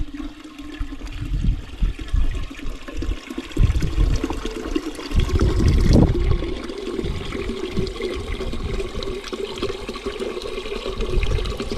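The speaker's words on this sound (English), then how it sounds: "I transplanted a few plants over there this morning, so I want to give them some water." Garden hose spraying and splashing water onto freshly transplanted plants in a garden, a close, continuous gushing with fluctuating splatter and no talking.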